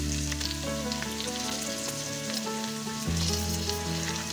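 Eggs fry in hot oil for an egg masala curry, giving a strong, continuous close sizzle with faint stirring over background music.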